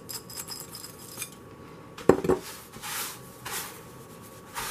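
Ground almonds and sugar are stirred together in a bowl for an Algerian almond confection, with a spoon scraping and clinking against the bowl; quiet near rubbing builds to a brief cluster of knocks, then gentle swishing, with no voice.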